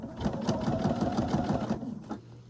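A sewing machine stitches a 5/8-inch princess seam in velvet for a dress bodice, a steady rapid whirring with dense rhythmic needle clatter that runs loud for about two seconds, then slows and stops.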